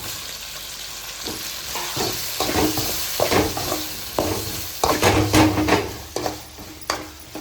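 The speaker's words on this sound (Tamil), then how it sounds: "வெங்காயம் தக்காளி எல்லாம் நல்லா கொடைய வதங்கணும்" Onions and tomatoes sizzle and fry steadily in a pan with intermittent stirring and scraping, close and fairly loud, no voices.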